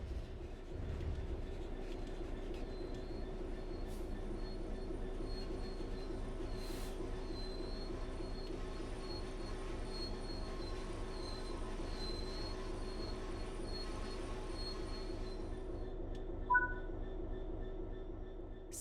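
A train in a railway simulator game brakes to a stop, wheels squealing with a steady metallic whine over rolling rumble and clatter, the screech fading out near the end.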